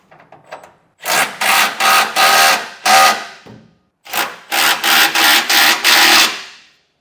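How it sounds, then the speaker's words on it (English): Ratcheting a 3/4 inch socket and wrench to tighten camper tie-down bolts on a 2024 Chevrolet Silverado frame, loud close rasping bursts in two runs of quick repeated strokes separated by a short pause. "So I have a 3/4 inch socket and wrench. Get it tight"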